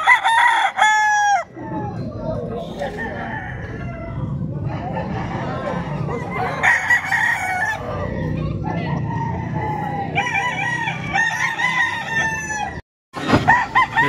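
A kanawayon stag rooster crows several times, loud and close, with other fowl clucking and crowing in a busy farmyard while someone talks over it.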